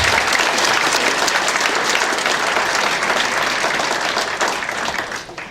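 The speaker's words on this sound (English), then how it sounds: "I want to applaud them" A crowd applauds ranchers and farmers at an evening agriculture event, loud dense clapping that holds steady, then tapers off at the end.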